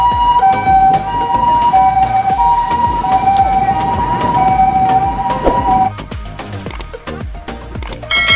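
A white toy ambulance gives off a loud, steady siren wail, a two-tone electronic cycle that repeats for several seconds and then cuts to softer, rattling handling noises near the end.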